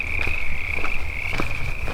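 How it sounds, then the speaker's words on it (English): A chorus of frogs at a high mountain lake croaks continuously, a steady high trilling drone with a few louder individual calls popping out, moderately close. "I hear those frogs just going away over there."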